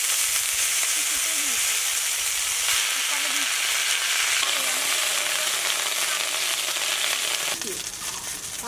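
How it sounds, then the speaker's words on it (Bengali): Neem leaves fry in hot oil in a pan after eggplant slices, giving a loud, dense sizzle and hiss that stays steady. It eases slightly near the end, and no one speaks. "এবার নিম পাতাগুলো ভেজে নিচ্ছি।"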